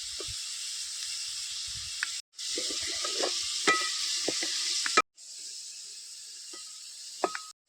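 Onions sizzle and fry in a pan with salt and garlic paste for a Malvani prawn curry, a steady close hiss with occasional stirring clinks and scrapes, broken by two brief cuts.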